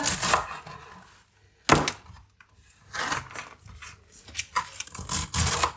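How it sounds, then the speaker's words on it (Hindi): A knife chops cleaned spinach on a board in bursts of quick crisp strikes separated by short pauses, close and moderately loud, with no talk. "अब यहाँ पे पालक को मैंने अच्छी तरह साफ कर लिया। अब इसकी करेंगे कटिंग।"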